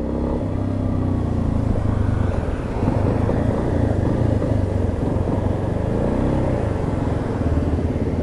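A Yamaha XTZ Lander 250 motorcycle being ridden, its single-cylinder engine droning steadily up close with faint clatter and wind noise and no talk over it.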